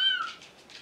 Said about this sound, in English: you have to listen to the meowing of the little kitty I have here.